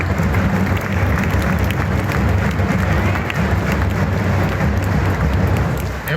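Students and guests at a school event applaud steadily as flowers are presented, a dense, loud and continuous clapping that blends with crowd noise throughout.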